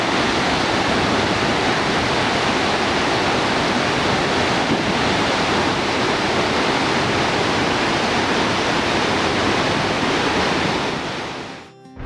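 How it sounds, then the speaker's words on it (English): Roaring River Falls in Kings Canyon National Park pours in a loud, steady rush of white noise that stays constant throughout, then briefly drops away at the very end. "The waterfall was a short hike from the parking lot, and it was angry, loud, and spectacular."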